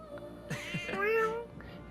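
In the video game Metaphor: ReFantazio, a cat lets out a short, soft meow followed by a longer drawn-out meow, heard alone at moderate loudness over quiet game background sound.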